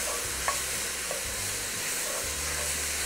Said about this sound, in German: dann gebe ich einen großzügigen Esslöffel Tomatenmark hinein und röste das Tomatenmark ein bisschen an